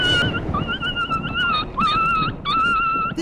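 A scared stray dog whimpers before a storm, giving a string of high, wavering whines in short bursts, close and fairly loud, with no talking.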